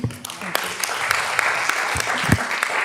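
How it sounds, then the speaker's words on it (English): Sustained applause fills a council meeting chamber, a dense and fairly loud wash of clapping from many people with a few voices mixed in. "Sorry, after the applause"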